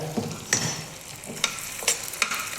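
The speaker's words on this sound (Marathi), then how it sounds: "आपण इथे तूप तापवत ठेवलेलं आहे ते तापलेलं आहे बघा आपण आता या असं बघायचं आणि आपण आता यामध्ये हा डिंक तळून घ्यायचा आहे" Edible gum pieces fry in hot ghee with a soft, crackling sizzle, punctuated by a few sharp clinks of a stirring spoon against the pan.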